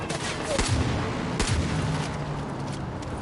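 Double-barrel shotgun fired in the Far Cry video game, with a couple of booming shots over a dense, steady wash of game noise and gunfire.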